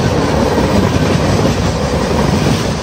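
A diesel-hauled express train bound for Mumbai rushes past at speed through a station at night, a loud, close, unbroken roar of wheels and rolling stock.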